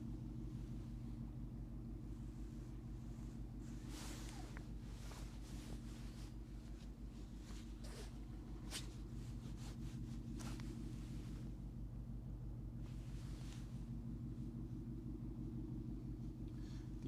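Ship engine on the Westerschelde in the Netherlands gives a deep, steady low rumble with a strong drone, heard outdoors with intermittent wind buffeting the microphone.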